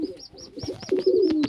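Pet pigeons coo softly and repeatedly at close range, with low throaty calls alongside brief higher chirps.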